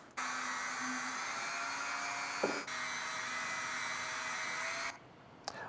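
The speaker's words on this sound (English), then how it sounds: "whenever using a Dremel" A Dremel rotary tool grinds a plaster slip-casting mold with a steady high-pitched whine for about five seconds. A brief knock interrupts it midway before it cuts off.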